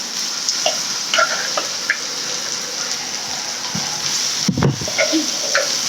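Chicken curry pieces fry in a pan, a continuous soft sizzle with small crackles and pops, alone with no talk.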